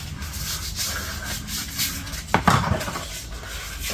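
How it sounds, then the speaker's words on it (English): Sandpaper scuffing satin black paint on a VW T4 rat rod, making a steady close rubbing and scratching with a brief louder scrape partway through. "Sandpaper. Scuff on the edges there."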